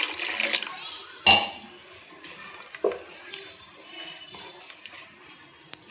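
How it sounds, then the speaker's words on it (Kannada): Water is poured into a pot of Udupi-style bangude fish masala, giving a few short splashing, sloshing bursts among softer kitchen clatter and drips. "ಇನ್ನು ಸ್ವಲ್ಪ ನೀರು ಹಾಕಬೇಕು ಇದಕ್ಕೆ."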